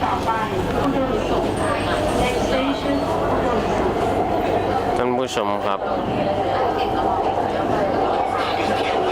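Steady rumble and rattle of the BTS Skytrain in motion, heard from inside, with a person talking over the continuous rolling noise.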